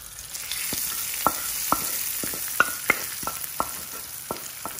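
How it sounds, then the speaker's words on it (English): Sizzling kidney bean dhaal is given a quick stir in a pan: a steady frying hiss runs throughout, punctuated by about ten sharp spoon scrapes and taps against the pan. "Give her a quick stir and switch it off."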